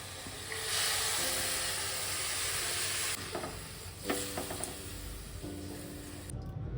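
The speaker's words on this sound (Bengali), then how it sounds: "এই দুধটা এর মধ্যে এবার দেবো। সবটা ঢেলে দিই।" Milk poured into a pan of ghee-fried vermicelli (simui) sets off a loud, steady sizzle with stirring scrapes and a few sharp clinks, continuous throughout and dying away at the very end.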